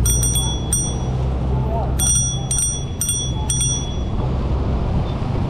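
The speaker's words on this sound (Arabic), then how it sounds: "ادقهم جرس" A bicycle bell rings in repeated quick double and triple dings on a ride along the old city wall in Chiang Mai, Thailand, bright and close over steady street and traffic noise.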